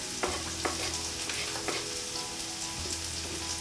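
Garlic sautéing in a pan for a vegan aubergine masala, a steady close sizzle with occasional stirring scrapes and clicks, no voices.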